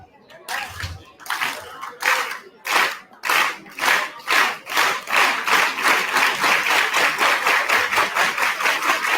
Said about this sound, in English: so they did it through what we know as the unity clap, that it resembles a heartbeat